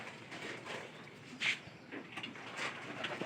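Pigeons kept as pairs give soft, low cooing calls, faint and intermittent against a quiet indoor background.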